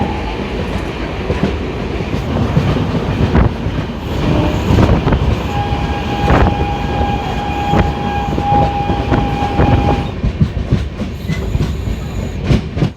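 Passenger train pulling out of a station after a short halt on the route toward Bagdogra, with steady loud rumble and wheel clatter throughout, occasional clanks and a sustained horn-like tone midway.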